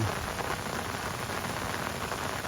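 Steady rain falls by a riverbank on a fishing trip, a dense, even hiss of drops hitting surfaces that stays constant and fairly loud throughout, with no voices.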